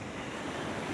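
Ocean surf at dawn on the beach at Marbella, Spain, rolls in a continuous broadband wash with some wind rumble, steady and fairly loud with no voices.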